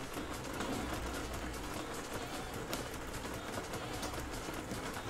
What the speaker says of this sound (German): Das regnet, ja.